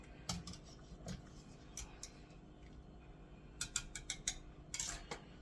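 A spoon clinks against a pot while a low country boil with corn is stirred, giving a few sharp metallic taps in scattered clusters over a low, steady background rumble.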